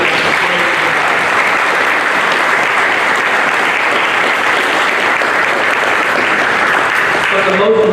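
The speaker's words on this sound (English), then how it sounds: "how about a round of applause?" Sustained applause from a crowd honoring firefighters at a fire station open house, steady and dense clapping that fills the whole stretch and ends abruptly at the close.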